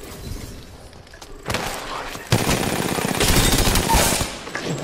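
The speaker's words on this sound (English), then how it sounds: "The enemies are shooting at me." Enemy gunfire in the battle-royale game Apex Legends comes as rapid bursts of automatic shots with thuds and impacts, growing louder and denser midway, close and intense.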